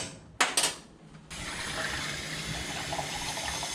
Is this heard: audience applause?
no